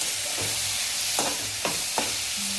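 Chopped tomatoes stirred into vegetables frying in a pan for a capsicum curry, a steady close sizzle broken by three scraping stirs of the spoon.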